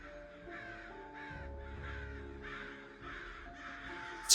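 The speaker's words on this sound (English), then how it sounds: "And there they go, just cawing at me again." Several crows caw in repeated harsh bursts, close and fairly loud, with a low rumbling hum underneath.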